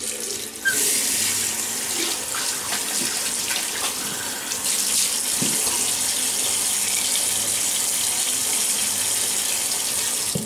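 A bathroom tap runs steadily while water is splashed on the face to finish a shave. The rush is even and close, with small splashing breaks and no speech.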